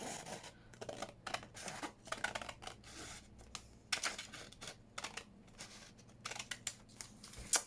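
Scissors snip a strip off a sheet of paper for an envelope journal folio, a close, quiet run of crisp cuts and paper rustles in irregular bursts with no talking.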